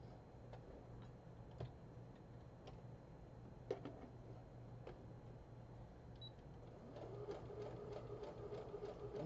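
A sewing machine stitches around a scrub cap, a soft, quiet steady whir with light ticking clicks, growing a little busier toward the end.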